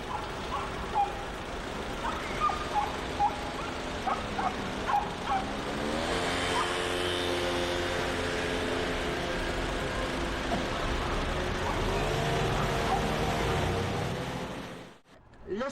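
Tour bus bound for Lyon, France, in June 1991: a steady engine rumble and road noise run throughout, with several short beeps early on, a voice speaking briefly, and a sudden cut near the end.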